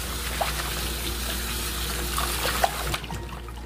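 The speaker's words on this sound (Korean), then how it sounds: "고들빼기는 뿌리를 이렇게 만지고 뿌리를 쥐고 살살살살 문지르시면 흙이 잘 떨어집니다" Godeulppaegi greens are rubbed and washed by hand in water at the root to loosen soil, a close, continuous trickle and splash with a few small clinks.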